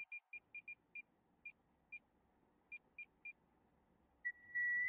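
Short electronic chirps repeat in quick bursts, then in a slower irregular pattern, faint against quiet room noise, like a ringtone or notification tone.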